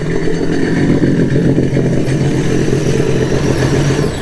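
A Sea-Doo personal watercraft engine runs steadily at idle while being flushed after a saltwater ride, a loud continuous rumble with no talking.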